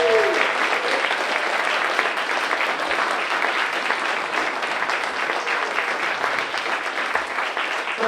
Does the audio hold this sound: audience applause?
yes